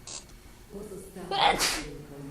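A single sharp sneeze bursts out close by, preceded by a short intake of breath and followed by a faint, low murmur of voices.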